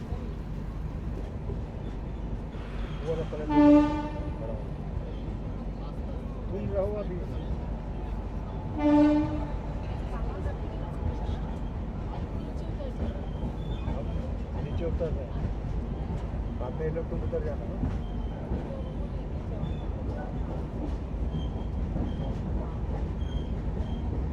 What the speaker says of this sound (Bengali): অবশেষে 12517 কলকাতা গুয়াহাটি গরিবরথ এক্সপ্রেস